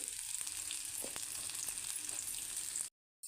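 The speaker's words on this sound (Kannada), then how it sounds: "ಸ್ವಲ್ಪ ಈರುಳ್ಳಿ ಎಲ್ಲ ಬಾಡೋ ತನಕ ಹುರ್ಕೊಳ್ಬೇಕು" Onions, garlic and ginger sizzle steadily in a frying pan for a korma, a constant bright crackle with a few soft stirring knocks, close and without talk, then a sudden cut to silence.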